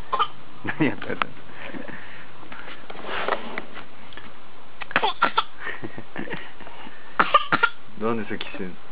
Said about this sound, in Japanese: なんで咳してんの？